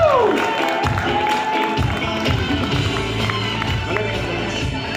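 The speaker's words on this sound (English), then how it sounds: "Why don't we give them another round of applause" A wedding crowd applauds and cheers loudly, clapping and whoops blending into a dense, sustained roar that continues throughout.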